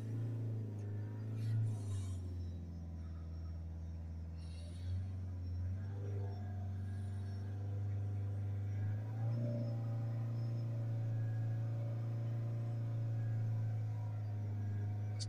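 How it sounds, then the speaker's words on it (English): Ford S-Max 2.0 engine held at around 3000 RPM, a steady close droning hum with slight wavering in pitch as the revs fail to stay perfectly even, no voices. "It's difficult to get a steady rev on it."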